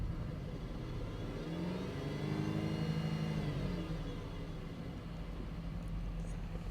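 A 2011 Chevrolet Equinox engine with a throttle body correlation fault revs up smoothly in a throttle sweep, pitch climbing to a peak midway then easing back down, heard as a steady, fairly faint hum throughout.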